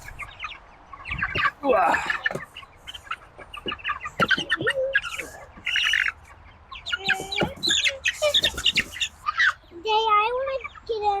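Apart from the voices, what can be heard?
chickens clucking and squawking in a chicken tractor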